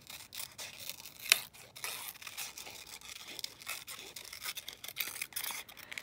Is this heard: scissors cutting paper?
yes